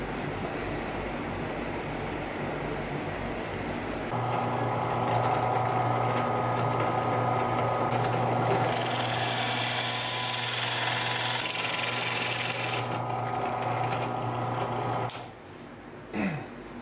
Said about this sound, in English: I need to drill the hole